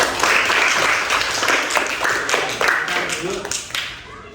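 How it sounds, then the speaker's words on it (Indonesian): A classroom of students clapping together, steady applause close by that fades slightly toward the end. "Berikan tepuk tangan juga"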